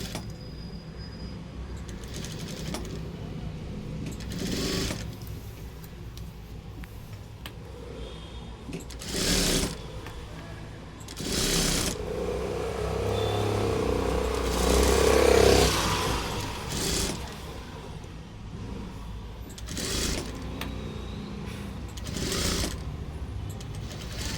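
A sewing machine stitches a blouse in bursts, each run of rapid mechanical whirring starting and stopping repeatedly, close and moderately loud, with quiet pauses between stitches.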